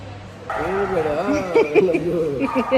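A pet dog named Lucky whimpers and yips in short, rising whines and a few small barks nearby, vocalizing continuously for a couple of seconds.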